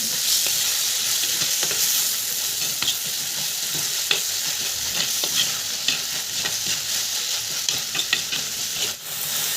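Chopped tomatoes sizzle and fry in a hot pan for a crab fry, with a spoon stirring and scraping in frequent light strokes over a steady close hiss. There is no talking.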